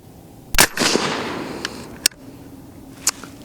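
A suppressed 22 ARC rifle firing a Hornady 80g ELD-X bullet outdoors: one sharp muffled crack with a decaying rumble, then fainter clicks and a later brief pop.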